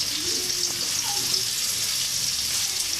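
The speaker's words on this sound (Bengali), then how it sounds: "কিছুক্ষণ পেঁয়াজগুলো ভেজে নেব।" Chopped onions fry in hot oil in a wok, giving a steady close sizzle with no talk.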